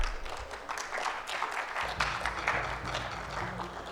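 An audience applauds at an inauguration ceremony for a national chairman of a Nigerian highway engineering body, a continuous wash of clapping at moderate volume that swells slightly partway through.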